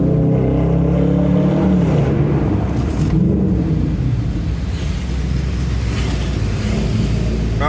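A car engine roars loudly and continuously, revving and rising in pitch as it accelerates, with rushing road noise throughout.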